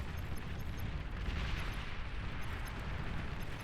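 Mortar fire in the real-time strategy game Beyond All Reason, a dense, continuous rumble of explosions and booms blending into a loud wash of battle noise with no distinct gaps.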